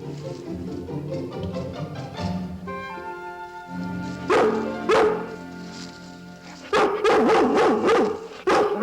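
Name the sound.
dog barking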